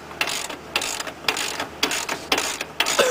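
A hand ratchet clicks in quick, rhythmic bursts, about seven strokes, while tightening a bolt on the ball joint of a third-generation Ford Escort, close and loud with short pauses between strokes.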